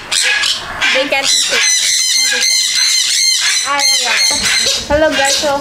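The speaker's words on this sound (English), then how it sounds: "it's so noisy because the birds are just" A loud, dense chorus of squawking chickens and crowing roosters, continuous and close, with overlapping calls throughout.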